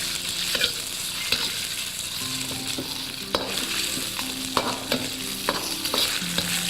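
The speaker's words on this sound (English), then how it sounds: "In go the shrimp. I'm just going to break them up a bit, move them around, get them cooking individually." Shrimp are stir-fried in a wok, with a steady bright sizzle broken by repeated clanks and scrapes of a spatula tossing them around, close and with no talking.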